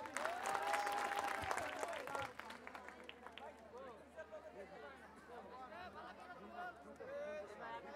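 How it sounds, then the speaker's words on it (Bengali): A corporate gathering's audience claps for a speaker, a loud burst of many hands over the first two seconds that then thins out and gives way to a voice speaking into a microphone. "করতালি।"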